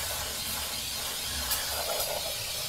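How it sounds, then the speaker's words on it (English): Brake parts cleaner sprays in a steady, close, continuous hiss across an engine block during a head gasket replacement, with no talk. "Go ahead and hose it down from top to bottom with some brake cleaner."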